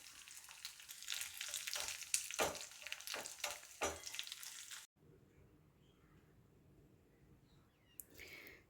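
Curry leaves and dry red chillies sputter in hot oil for a tempering, a loud close crackle with brief stirring bursts for about five seconds, then a much quieter low hiss and a final short clatter.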